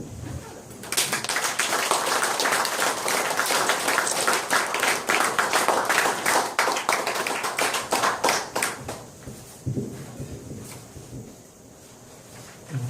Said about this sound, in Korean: 그럼 오늘 강의자 단목 선생님을 박수로 환영해 주십시오